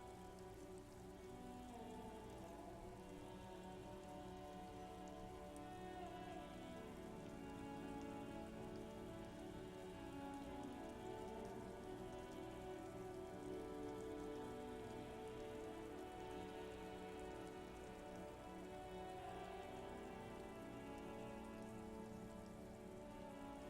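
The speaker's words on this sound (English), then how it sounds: "The rain falls." Steady rain falls throughout the Disco Elysium video game, a dense, even patter on surfaces that stays constant and fairly loud with no voices over it.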